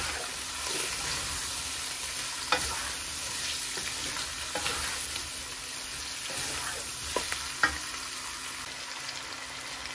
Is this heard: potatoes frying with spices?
yes